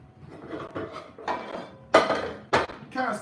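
A cast iron skillet is lifted from among other pans, giving several sharp metallic clanks and knocks spaced unevenly over a few seconds, close and fairly loud.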